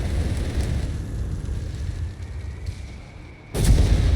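In Company of Heroes 3, a rumbling battlefield din of distant booms and gunfire rolls on, fades to a lull, then a delayed-fuse charge goes off with a sudden loud blast that lingers to the end.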